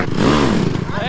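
A dirt bike engine revs hard and wavers in pitch as the rider attempts a circle wheelie, loud and close, with a voice shouting over it.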